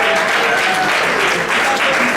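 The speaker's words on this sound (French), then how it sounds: "est-ce qu'on peut applaudir bien fort?" An audience at the Nzonzing Awards ceremony applauds loudly and steadily, a dense, continuous wash of many hands clapping with no break.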